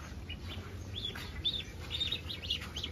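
Soft high peeping of ducklings, several short repeated chirps over a low steady background rumble.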